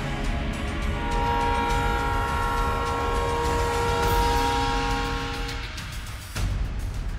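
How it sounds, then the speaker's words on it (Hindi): A train roars past loudly and steadily, a sustained tonal whine riding over the heavy rumble, which drops away abruptly near the end. "सामने से आती ट्रेन।"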